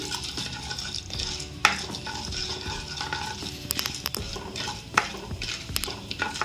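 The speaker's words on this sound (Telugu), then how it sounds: "నూనె కాగిన తర్వాత మనము పోపు దినుసులు వేసుకుందామండి. అవి ఆవాలు, జీలకర్ర, పచ్చిశనగపప్పు, మినప్పప్పు." Mustard seeds, cumin, chana dal and urad dal frying in hot oil for a Telugu broad beans curry tempering, a steady close sizzle with scattered pops and crackles and occasional clinks of a stirring spoon against the pan.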